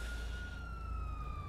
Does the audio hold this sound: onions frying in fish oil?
no